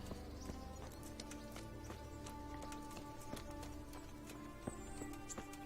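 A horse's hooves clip-clop at a steady walking rhythm in the medieval game Kingdom Come: Deliverance, with evenly spaced sharp knocks over a constant quiet ambient bed of wind and rustle.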